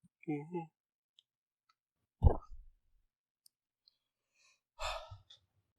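A person yawns near the microphone during an online board game session: a short voiced, breathy yawn, a sudden click-like burst, then another drawn-out breathy exhale amid near silence.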